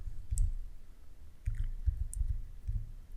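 Keys on a computer keyboard are typed in short bursts, soft close clicks and taps coming in a few quick clusters with brief pauses between them and no speech.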